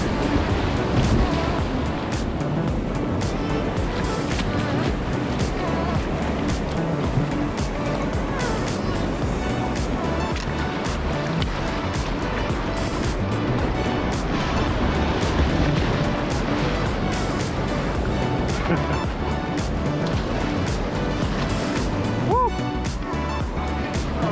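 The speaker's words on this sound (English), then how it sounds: "This is Richard going over the boiling hole." River water rushes over the Boiling Hole ledge in North Mayo, a continuous churning roar, broad and turbulent throughout, while a paddler goes over the drop; voices are faintly present beneath the water noise.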